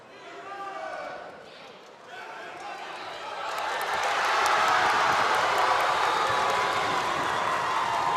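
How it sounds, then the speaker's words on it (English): At a high school wrestling finals tournament, the Holtville Rotary Invitational, the crowd starts as a murmur and then swells into a loud, sustained roar of cheering and clapping that carries on under a commentator's voice. "With the sound of that crowd, you can only tell he's from Holtville."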